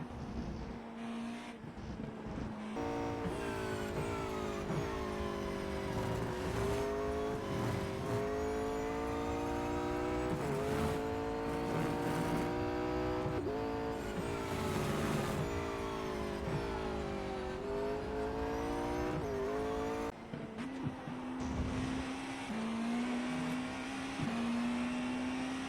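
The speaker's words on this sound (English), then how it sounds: "the downshift sound is quite nice. Let's compare the two, starting with iRacing." Engine of a racing car in the iRacing sim, revving loud and continuous through a run of gear changes, pitch stepping down and up with a steady harmonic whine, close and unbroken with no talking.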